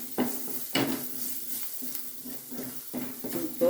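Garlic is stirred in a pan over the flame for pepper rasam, with a soft sizzle under repeated spoon scrapes and clinks against the pan in an uneven rhythm.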